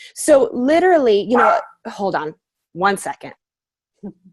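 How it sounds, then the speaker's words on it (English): A pet dog barks and yips at home in several quick, loud bursts with whimpering tones, close to the microphone, followed by a short spoken remark. "Sorry, that is my dog, clearly at home."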